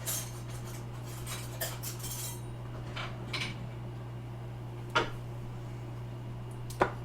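Metal utensils clinking and clattering as a drawer of measuring spoons is rummaged for a teaspoon measure, several scattered bright knocks over a steady low hum, with a couple of louder clanks near the end.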